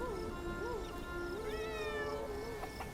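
A cat in a medieval survival video game meows repeatedly with wavering, drawn-out calls, clear and continuous over steady game ambience.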